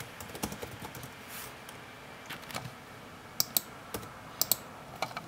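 Someone types code on a computer keyboard, a quiet run of soft clicking keystrokes with a few sharper, louder taps toward the end, close by and with no talk.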